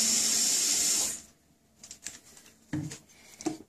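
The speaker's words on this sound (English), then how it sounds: "Just grab yourself a bottle, place normal tap water in it." Tap water pours loudly into a bottle for about a second, a steady rushing hiss, then stops, leaving a few faint clicks and light handling knocks.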